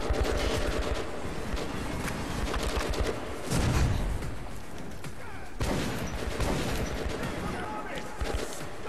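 Shotgun fire in the video game Metro: repeated loud booming blasts amid dense gameplay noise, with a voice talking over parts of it.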